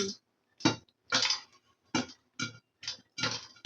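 Popcorn pops inside a covered pan in a series of about seven sharp, close bursts at irregular intervals, each a quick crackling clatter against the lid, separated by near silence.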